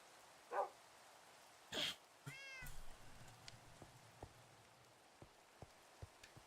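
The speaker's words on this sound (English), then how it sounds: "despite the awesome ambiance of the rain" Rain falls steadily in Minecraft, a soft continuous patter with scattered drops. Several louder in-game animal cries, including what resembles a cat's meow, break in over the first few seconds.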